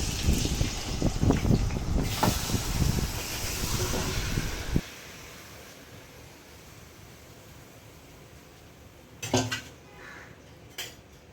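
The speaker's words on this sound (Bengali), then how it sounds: "এবার আমি মেখে রাখা চিকেনগুলো কড়াইয়ে দিয়ে দিচ্ছি।" Marinated chicken dropped into hot oil in a kadai, a loud dense sizzle with clattering for about five seconds that cuts off abruptly, leaving a faint hiss and a few later metallic clinks.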